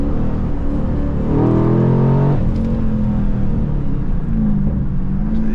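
A Pontiac G8 GT engine rumbles loudly and rises in pitch as the car accelerates from inside the cabin, with a single sharp exhaust pop cutting through midway.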